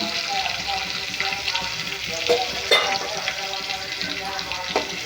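Chilli powder and turmeric sizzle in hot oil in a pan for a dried fish curry, a steady close frying crackle with occasional stirring clinks.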